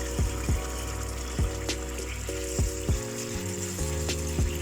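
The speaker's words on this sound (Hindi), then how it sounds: "अब इसमें हम पानी ऐड कर देंगे।" Water goes into a pan of sizzling aloo chicken curry, with frying crackle throughout and several distinct pops and bubbling bursts as the liquid hits the hot masala.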